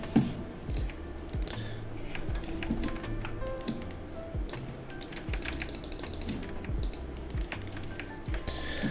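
Rapid clicking of computer keyboard keys and mouse buttons during a Warzone game stream, close and steady, with irregular bursts of taps throughout.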